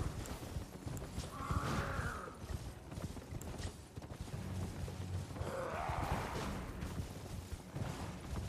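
Horse hooves clip-clop faintly under a mounted rider in the Elden Ring game, a soft steady plodding rhythm mixed with low ambient rumble and two brief swelling whooshes.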